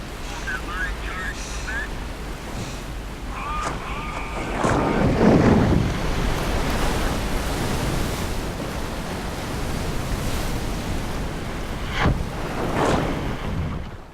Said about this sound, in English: incredible guttural deep sound of water just hammering, and then huge waves smashing against the canyon walls.